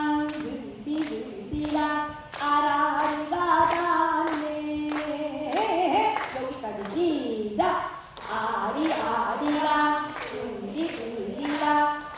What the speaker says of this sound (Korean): 박수 준비